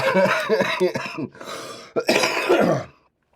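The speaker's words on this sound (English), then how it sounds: "I'm coughing" Several harsh coughs close to the mic, broken by short pauses, ending in a throat-clearing burst before quiet.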